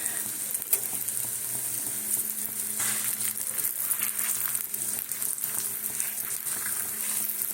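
Radish paratha stuffed with onion, garlic and ginger frying in oil, a steady soft sizzle with occasional pops and faint stirring, no voices.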